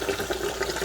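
Hot water poured into a cooking pot for Caribbean-style oxtails, a steady close splashing and trickling stream without talk.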